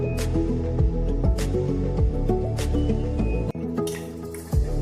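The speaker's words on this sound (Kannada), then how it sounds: "ಇನ್ನು ಇದಕ್ಕೆ ನೀರು ಹಾಕಿ ಕರಗಿಸ್ಕೊಳ್ಳುವ." Water poured into a pan of jaggery on the stove so it melts, giving a steady wet bubbling with repeated drips and squishy splashes and a short pause near the end, with no talking.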